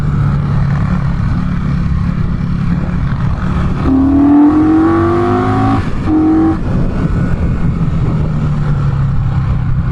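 Indian Scout Bobber motorcycle engine on a test ride, a steady low rumble with a rising rev around the middle, harmonics climbing as it accelerates, then settling back to a loud, even drone.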